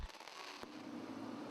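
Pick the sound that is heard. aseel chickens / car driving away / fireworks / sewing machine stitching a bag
fireworks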